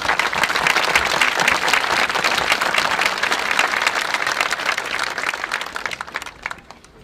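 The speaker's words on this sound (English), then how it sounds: "Another round of applause for our concert band." At a 2022 commencement, the crowd gives the concert band another round of applause: loud, sustained clapping from many hands that tapers off and fades out at the end.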